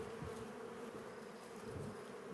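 A dense, steady buzz of many honeybees hovering around an open beehive during hive inspection, close and continuous with no voices.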